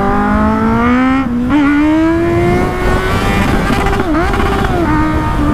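Kawasaki Z800e motorcycle engine held at a steady, loud rev close by, its pitch drifting slowly upward with brief dips, running continuously throughout.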